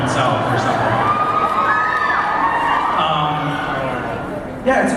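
A large convention audience at a fan event cheers, whoops and shouts continuously, loud and close, with voices blending into one roar.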